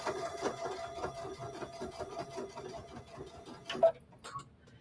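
A Luminaire embroidery machine stitching, a quiet steady mechanical ticking and whirring that runs evenly before a short sharp click near the end, followed by a softer pause.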